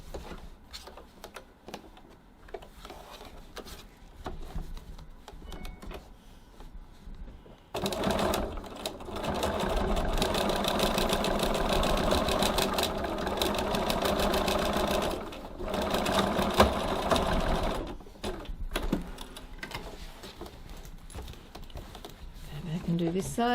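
A sewing machine sews a second row of stitching along the side seam of a tote bag, rattling steadily in two long runs after a quieter stretch of handling noises, with a voice talking at times.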